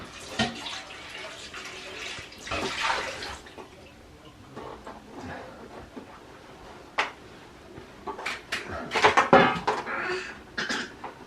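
Clean water splashes and runs in bursts from a tap into a basin or container, with clinks of dishes and handling noises between, nearby and moderately loud.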